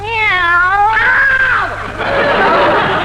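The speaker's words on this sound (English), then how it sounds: "She's only a kitten." A kitten gives two drawn-out, wavering meows in quick succession, loud and close, the first higher and bending downward, the second rougher and more strained.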